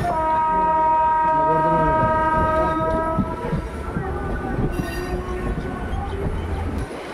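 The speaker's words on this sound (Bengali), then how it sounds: "দেখতেই পাচ্ছ গরিফা স্টেশনে ট্রেন ঢুকছে" A local train on the Naihati–Bandel line pulls into Garifa station: a loud, sustained horn blares for about three seconds, then the steady rumble and rattle of the carriages rolls on close by.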